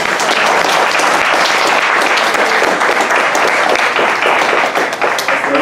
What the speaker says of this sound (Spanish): Vamos a agradecer a Mariela con un aplauso, ¿no?